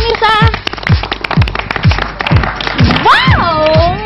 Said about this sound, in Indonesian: Tepuk tangan dong pemirsa.